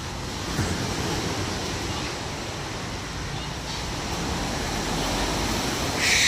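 Surf from the Bay of Bengal washes onto a beach in Sri Lanka, a steady, fairly loud roar of breaking waves and wash with wind noise, continuous throughout and rising slightly toward the end.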